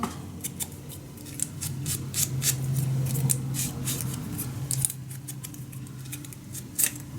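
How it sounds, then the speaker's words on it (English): Scissors snip paper for a handmade mini album, a quick run of close, crisp cuts in an irregular rhythm, with a brief pause before a few more snips. "A little cutting."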